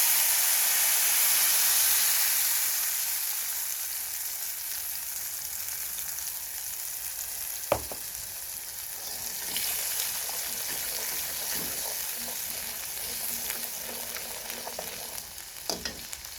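Spice paste frying in oil tempered with cumin and dried chilli for soya chaap hisses loudly at first, then settles into a softer continuous sizzle punctuated by occasional sharp utensil knocks.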